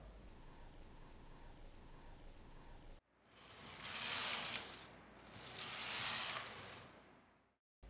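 A home knitting machine's carriage moves loops from one needle to the next to form a mesh pointelle stitch. After a steady low hiss come two long mechanical passes, each a rising and falling rattling whir, with no voices.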